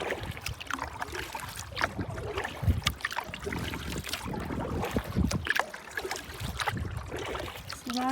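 A solo canoe being paddled on a lake, with near splashes and drips from the paddle, water trickling along the hull and occasional knocks, set against light wind.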